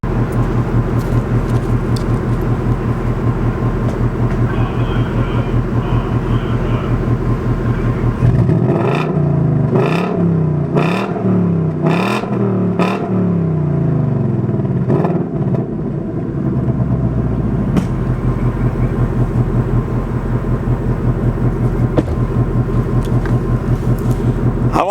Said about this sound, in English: let's go ahead and rev them up and hear what she sounds like